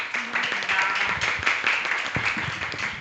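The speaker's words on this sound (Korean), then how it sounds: "다시 한번 박수 부탁드리겠습니다" Audience applause at a Korean literary book-talk event, a dense patter of many hands clapping steadily for a few seconds, fairly close, with faint voices mixed in.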